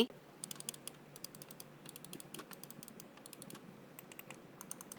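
A Corsair M55 computer mouse gives quick, faint, light clicks in irregular bursts, heard alone against a quiet room.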